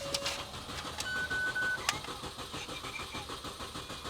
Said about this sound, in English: Well, it's cranking, which is good.